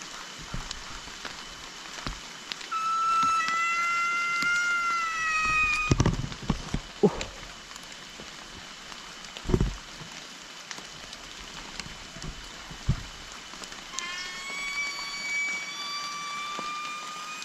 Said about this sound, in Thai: ฝนตกหนักนะ